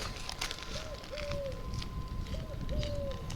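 Soft pigeon coos repeat in pairs of low hooting notes, somewhat distant over outdoor background noise in a village.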